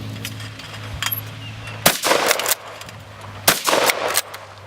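Two loud shotgun blasts at clay targets, each a sharp crack followed by a short ringing tail, spaced about a second and a half apart outdoors.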